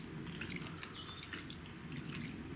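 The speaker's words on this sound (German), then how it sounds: "Jetzt gieße ich da die Brühe drauf." Vegetable broth poured into a Dutch oven, a continuous close splashing trickle of liquid without pause.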